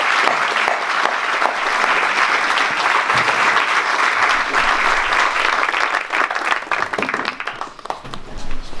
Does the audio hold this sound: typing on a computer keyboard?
no